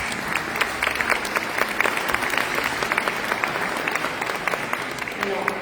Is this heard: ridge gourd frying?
no